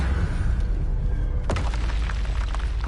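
The Confringo blasting spell fires in Hogwarts Legacy, giving one sharp boom about halfway through over a dense, rumbling low background of game ambience; no voices.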